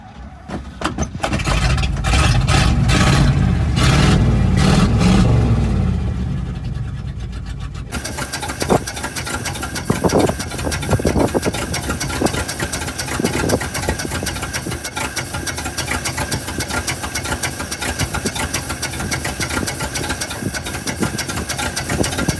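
A 1958 Viking 40 outboard engine fires up and runs, loud and close, first with a heavy rough burst, then settling into a steady, continuous buzzing idle that carries through to the end.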